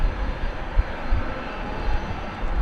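A Qantas Boeing 787-9 Dreamliner at Dallas Fort Worth Airport gives a steady, loud, broadband jet engine roar with a deep rumble, heard from a distance and without voices.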